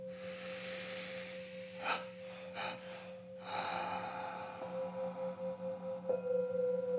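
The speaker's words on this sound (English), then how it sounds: "Taking in a deep breath and 3 exhales, relaxing." Deep breaths drawn in and pushed out during a guided breathing exercise, with several sharp breathy bursts followed by a longer stretch of rhythmic, pulsing exhales over a steady background hum. No one speaks.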